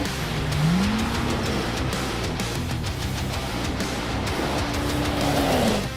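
A Polaris RZR Pro R 4 side-by-side with a 2-liter, 225-horsepower ProStar Fury four-cylinder engine accelerates hard, its rising engine whine swelling and dropping over a constant loud roar of wind and rumble.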